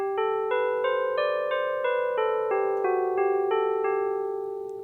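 A clear synthesized melodic run in a Bach-like style, a sequence of about a dozen sustained, evenly paced tones that climb and fall in peaks and troughs, bright and steady throughout.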